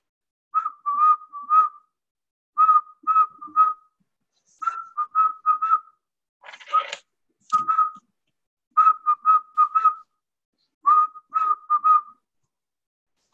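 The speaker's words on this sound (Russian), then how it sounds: "Последнюю минуту свистите." Several people whistle together during a group breathing exercise, short sustained whistles in repeated bursts of three to five with brief silences between, fairly close and clear with no talking.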